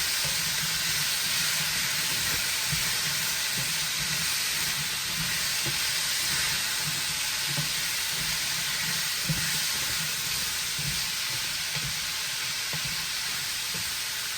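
Pork chops sizzle loudly and steadily in a hot frying pan, a dense continuous hiss with faint bubbling underneath, close up and without talking.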